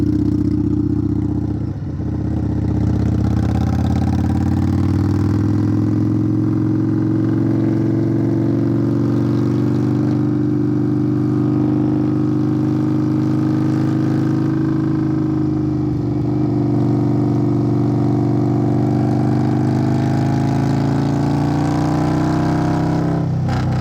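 A 2021 Indian Scout motorcycle fitted with a Hacker Mayhem exhaust rumbles steadily while riding, a loud, close, continuous low engine drone with slight rises and dips in pitch and no talk.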